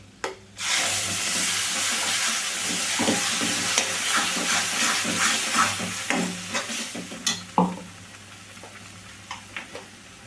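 Masalas and tomato paste frying in a pan for a bendakaya pulusu (okra stew): a loud burst of sizzle as the paste goes in, then continuous frying hiss with repeated scraping stirs growing sparser toward the end, no talking.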